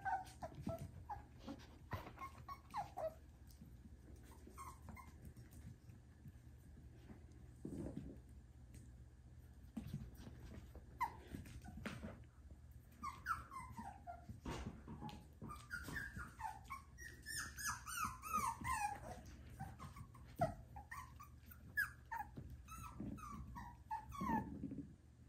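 Puppies whimper, yip and growl playfully in bursts, with high squeaky whines clustering toward the end; no talking.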